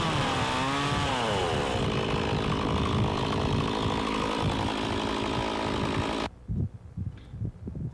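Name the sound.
chainsaw cutting off the end of a log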